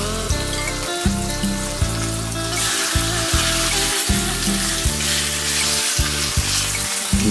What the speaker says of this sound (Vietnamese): chiên cho vàng ha.